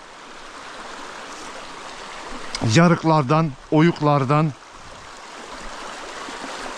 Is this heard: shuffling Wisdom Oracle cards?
no